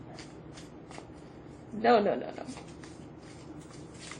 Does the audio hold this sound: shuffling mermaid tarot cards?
yes